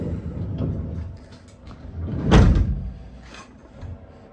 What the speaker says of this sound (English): So I'm just going to test the door one more time.